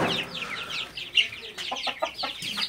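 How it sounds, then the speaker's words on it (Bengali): A Colombian Brahma rooster clucks close by in a quick run of short, choppy calls, with a few bird chirps mixed in. "এই যে একটা মোরগ"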